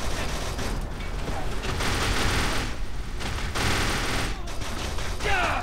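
Blind fire in the video game Kane & Lynch 2 produces dense, sustained bursts of gunfire, loud and continuous with rattling mechanical clatter and short gaps between volleys.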